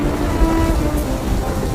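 Steady rain pours down with low rumbles of thunder rolling beneath it, a dense continuous downpour in a stormy night scene, loud and close with no voices.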